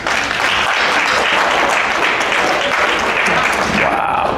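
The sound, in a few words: comedy audience clapping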